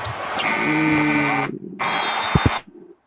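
A loud electronic buzzer sounds twice in long blasts at the end of an NBA basketball game, with crowd noise and a short thump between and after the bursts.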